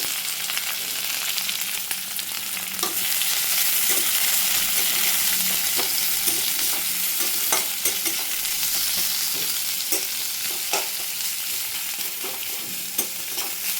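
Three medium chopped onions with black cumin seeds sizzle steadily in hot oil in a pan for a dried-fish chorchori, with a spatula scraping and clicking through them at irregular intervals.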